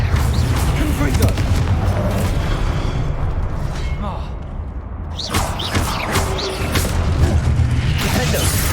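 Confringo blasting spells exploding in Hogwarts Legacy during a busy duel: dense, continuous booms and crashes with whooshing spell bursts, loud throughout, with voices calling out over the chaos.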